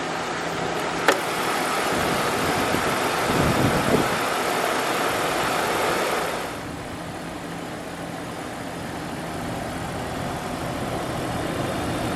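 The 2-litre inline-6 M52 engine of a 1999 BMW E39 520i idles with a steady, smooth hum and broadband rumble heard up close, with a brief click near the start and a drop in level after six seconds.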